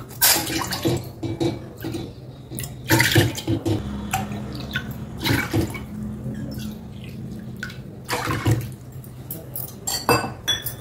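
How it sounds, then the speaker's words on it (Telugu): Water poured into a cooking pot in a kitchen, four cupfuls, for boiling sago: splashing pours between clinks of cups and metal vessels, close and fairly loud, no speech. "ఇలా 4 కప్పులు నీళ్లు పోసుకోవాలి ఈ గిన్నెలో"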